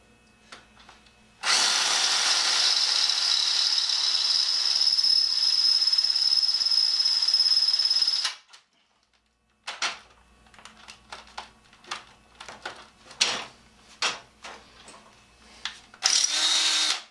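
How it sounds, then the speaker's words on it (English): A power drill bores through a piece of angle iron in a workshop, a loud steady whine for about seven seconds, then stopping; afterward come a series of sharp clanks and taps of metal being handled. "Piece of angle iron drills like it's made out of bed rail."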